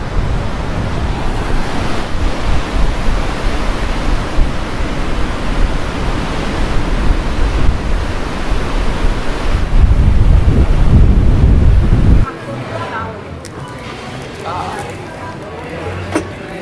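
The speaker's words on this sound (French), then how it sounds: "Mais la mer est vraiment démontée aujourd'hui." Rough sea crashes on a beach with strong gusting wind, a loud, dense roar of surf and wind buffeting the microphone that drops off sharply near the end, leaving quieter wind and faint background.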